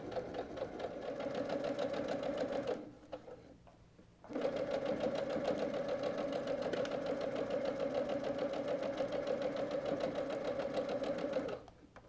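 A sewing machine stitches a quilt strip onto a row of quarter square triangles for a towel, humming loud and steady up close, with one brief pause before it runs on evenly.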